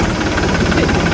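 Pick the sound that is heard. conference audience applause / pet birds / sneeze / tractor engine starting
tractor engine starting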